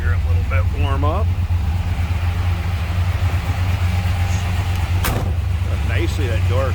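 The door of a 1964 Dodge Polara 500 two-door hardtop with a 426 Max Wedge V8 shuts with a single sharp thud midway, set against the steady low rumble of the idling engine, with someone talking before and after.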